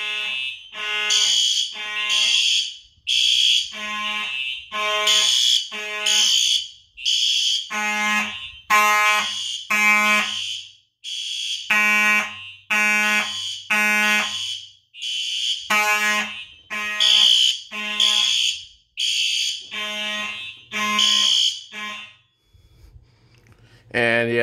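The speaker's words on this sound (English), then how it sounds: "I'm probably not going to set it off for long for the next couple of real alarms" A fire alarm system under test blares loud, repeated electronic tone bursts in a steady on-off pattern, several units sounding in sync, with brief gaps between groups.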